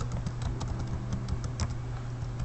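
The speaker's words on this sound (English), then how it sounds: "we're gonna type, let's see, my name," Rapid clicking keystrokes on a computer keyboard while a Google search is typed, an uneven patter of close taps over a steady low hum, with no speech.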